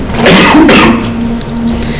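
A loud, close sneeze bursts out twice in quick succession, followed by quieter breathy sounds.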